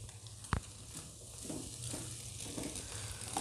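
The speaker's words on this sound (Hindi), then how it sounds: "मसाले की बुनाई करने के बाद इसमें शामिल करेंगे ये मैकरोनी शामिल कर लेंगे।" Spices and macaroni frying together in a pan, a soft, fairly quiet sizzle with a sharp clack from a utensil near the start and gentle stirring scrapes after it, no speech.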